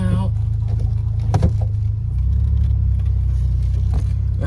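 A low-mileage 1981 DeLorean DMC-12 with a five-speed idles steadily outdoors, a deep continuous rumble with a brief bump partway through, while a person talks over it.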